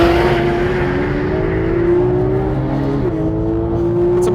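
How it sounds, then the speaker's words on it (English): A Porsche 911 GT3 engine howls steadily and loud at high revs, its pitch holding high with a brief dip near the end, no voices over it. "an engine that makes an incredible noise"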